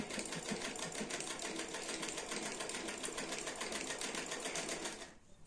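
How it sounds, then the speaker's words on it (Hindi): A sewing machine runs steadily, stitching a shirt seam in one continuous loud whirring burst that stops abruptly near the end. "आप पिन उतार लेंगे और आगे से सिलाई लगाते जाएंगे।"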